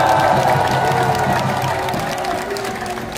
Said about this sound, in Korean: 여러분 오늘 밤에 잠을 잘 주무실 수 있도록 박수 크게 한번 보내주세요